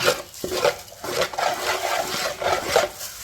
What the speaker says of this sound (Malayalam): ഇങ്ങനെ അവൽ ഇളക്കിക്കൊണ്ടിരിക്കണം